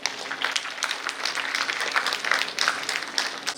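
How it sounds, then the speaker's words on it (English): A conference audience breaks into a round of applause to welcome a speaker, a dense, even patter of many hands clapping at moderate loudness throughout. "let's welcome Dr. Shashank Sridhar Apte sir with a big round of applause"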